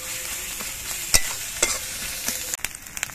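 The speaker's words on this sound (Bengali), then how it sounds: "আদা বাটা দিয়ে নেড়ে চেড়ে মিশিয়ে নিতে হবে।" Ginger paste stirred into onions frying in a pan, with a steady close sizzle broken by several scrapes and knocks of the stirring spoon, and no voices.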